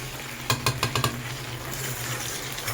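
A splash of water goes into chili chicken in a hot pan. It gives a quick run of sharp, bubbly spatters and then settles into a soft steady sizzle.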